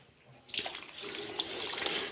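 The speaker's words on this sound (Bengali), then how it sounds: "এখন আমি এর ভিতরে পরিমাণ মতো পানি দিয়ে দিব।" Water poured into a pot of marinated beef mixed with oil, for a thin beef curry: a steady splashing pour begins after a brief quiet start and runs on at an even level.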